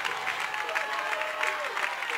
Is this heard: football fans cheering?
yes